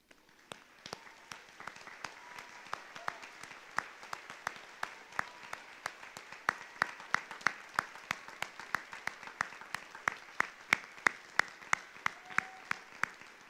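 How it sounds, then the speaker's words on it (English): Audience applause for veterans at a Veterans Day program, a steady crowd clapping with distinct sharp claps standing out throughout, moderately loud and sustained without a break. "let's just give them a huge round of applause"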